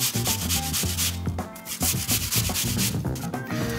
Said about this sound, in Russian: И на терочку натираем меленькое яблочко.